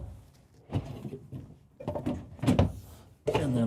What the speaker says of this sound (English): A few more drawers.